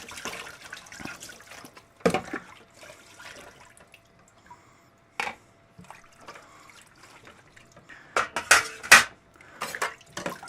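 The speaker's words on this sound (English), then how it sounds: "Yeah, sorry about the noise. I am just washing dishes." Dishes being washed in a kitchen sink, with water running and scattered clinks of plates and cutlery in irregular bursts, close and moderately loud, with no talking.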